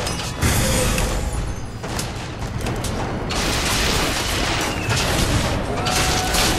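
Rapid gunfire and booms in the shooter game BioShock Infinite on 1999 Mode, loud and continuous over the whole stretch, with a voice talking briefly underneath.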